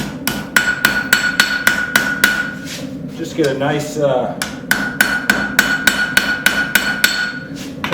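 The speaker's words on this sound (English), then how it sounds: "So I switched to my rounding hammer." A blacksmith's rounding hammer strikes a railroad spike being forged into a knife, giving sharp, evenly spaced ringing blows with a short pause in the middle while someone speaks briefly.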